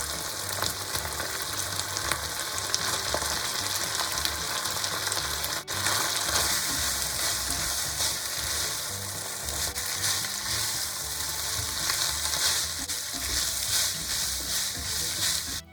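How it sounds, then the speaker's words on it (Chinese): Beef noodles with about 30 g of soybean paste stir-fried in a hot pan, a steady close sizzle and crackle running throughout with occasional scraping stir sounds. "大约翻炒1分钟后就可以起锅了。"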